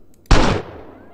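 A single sharp gunshot from a pistol in the Grand Theft Auto San Andreas Vice City mod bursts loud and close, then decays quickly into a short fading tail.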